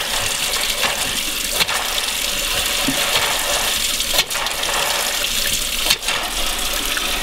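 Water gushing loudly and continuously from an erupting water well in a Marcellus Shale fracking area, a dense broadband rushing hiss with a few brief dips, close and steady throughout.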